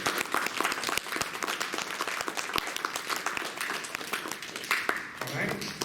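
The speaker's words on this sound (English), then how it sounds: "let's give a big round of applause to our guests and audience" Audience applause at the close of a candidate forum, a steady wash of clapping from a room of people with scattered sharp claps standing out and a voice speaking over it near the end.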